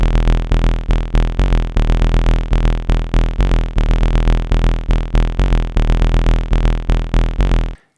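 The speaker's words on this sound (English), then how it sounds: "just the Arturia DB-01 Bassline on its own," Arturia DB-01 bassline synth playing a deep techno pattern on its own, with loud, fast, evenly pulsing bass notes that stop abruptly at the end.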